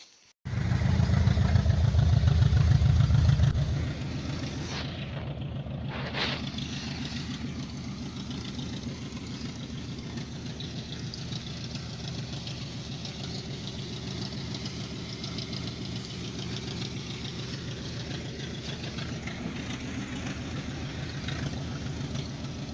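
A 1965 Pontiac LeMans sport coupe engine idles steadily and close by, with a louder burst at the start that settles into an even, rumbling idle with a slight knocking rhythm for the rest of the run.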